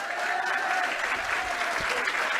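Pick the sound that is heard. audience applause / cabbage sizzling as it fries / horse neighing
audience applause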